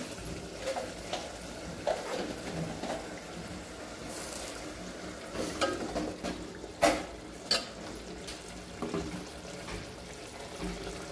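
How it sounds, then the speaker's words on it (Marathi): Cooked dal added bit by bit into a hot tempering for spicy varan and stirred, a low sizzle beneath scattered pours, splashes and spoon scrapes, close and moderately loud. "आता याच्यात थोडं थोडं करून आपण ही शिजलेली डाळ टाकून घ्यायची"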